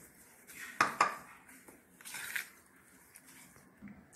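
A spoon scrapes and clinks against a pan as sugar is stirred into grated mango chunda, with two sharp metallic knocks early on, then softer scraping and quiet pauses.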